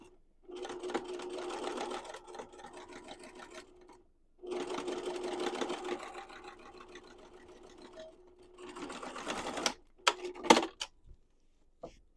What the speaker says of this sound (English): That just made nice flat felt seam or whatever you want to call it on the inside of your bag.